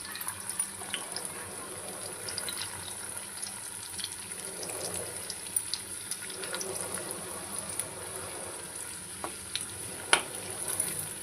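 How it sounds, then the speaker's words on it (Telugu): Vegetables for veg manchurian frying in a pan until brown, a faint, steady sizzle with occasional soft stirring clicks and scrapes, close and quiet. "జస్ట్ కలుపుకుంటే ఈ బ్రౌన్ కలర్లో వేగాలి మనకి."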